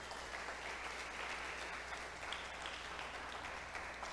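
A church congregation claps continuously in a dense, steady wash of applause that fills the room, with no clear voices over it.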